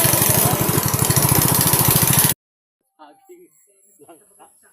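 A gasoline motorcycle engine idles loud and close with a steady pulsing throb for about two seconds, then cuts off abruptly; quiet conversation follows at a roadside bus stop.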